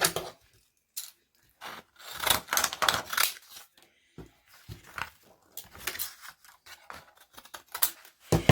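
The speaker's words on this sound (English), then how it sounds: "And I'm going to cut this." Scissors snip through paper craft material for a pocket and tag project, a string of close, crisp cuts in short bursts with pauses between, quiet and alone.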